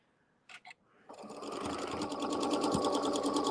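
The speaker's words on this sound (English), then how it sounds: "I'm going to chain stitch about 3 or 4 stitches" A sewing machine chain stitches through quilting fabric on a holiday wreath project, starting after two brief clicks and then running steadily and close, growing a little louder, with no talk.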